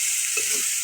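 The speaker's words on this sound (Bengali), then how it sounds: "পানি দিয়ে মশলাটা কষিয়ে নেব" Spice paste sizzles in a hot pan as it is stirred once, a short close scrape over a steady frying hiss.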